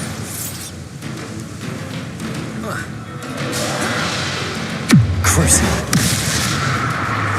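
A Bombarda spell blast in the Hogwarts Legacy video game lands as a sharp explosive boom with a falling whoosh, set over steady game ambience, with a spoken voice briefly heard.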